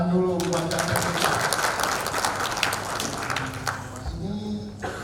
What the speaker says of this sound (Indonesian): Ya, kita beri tepuk tangan dulu buat kakak kita.